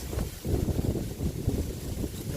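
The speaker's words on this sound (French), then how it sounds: "Il y a beaucoup de vent aujourd'hui, un gros vent de face." Strong headwind at a carp fishing spot roars steadily against the microphone, a dense low rumble with gusty buffeting and no voices.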